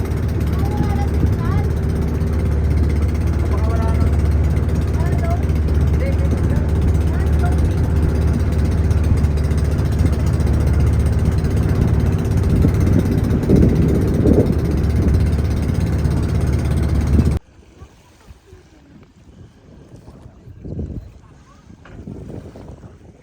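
A motorboat carries passengers toward a sandbar, its steady engine drone and wind rumble continuous and loud for most of the ride before cutting off abruptly, leaving quieter water and handling sounds.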